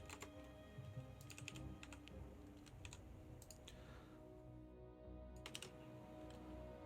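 A computer keyboard is typed on with a rapid, uneven run of clicking keystrokes throughout, close and fairly quiet over a low background hum.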